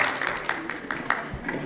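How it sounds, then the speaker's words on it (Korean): Applause welcomes an association chairman at a book launch celebration for a lawmaker: scattered, fairly quiet clapping from a crowd in a hall, with individual hand claps standing out briefly. "힘찬 박수로 환영해 주시기 바랍니다."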